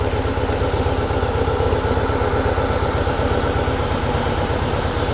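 A Porsche 356 Speedster VW kit car engine idling, cold, with a steady rapid low putter running evenly and close throughout, no voices.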